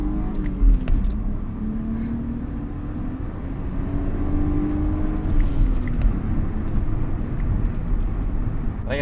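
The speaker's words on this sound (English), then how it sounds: "But I guess this is what a stock 320i convertible drives like, one with high mileage" High-mileage stock BMW E36 320i convertible on the move, a steady engine drone and road rumble running continuously near and loud, with the engine note rising and falling gently through the drive.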